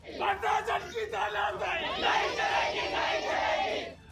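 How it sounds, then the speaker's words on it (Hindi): An agitated crowd of protesters outside a police station chants and shouts slogans together, a dense, loud wall of massed voices that swells and continues throughout, heard at a distance. "थाने के बाहर जुटी भीड़ ने वहां जमकर नारेबाजी की।"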